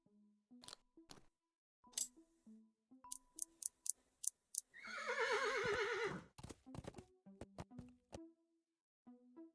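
A horse in the adventure game Willy Morgan and the Curse of Bone Town gives a loud, wavering whinny in the middle, framed by scattered hoof clops, clicks and chewing sounds in otherwise quiet surroundings.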